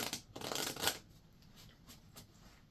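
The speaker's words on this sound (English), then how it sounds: "So you're going to let these cards fall first and then begin the shuffle." A deck of playing cards is shuffled up close: a brisk riffle burst in the first second, then a few soft, scattered card flicks and taps, with no voices.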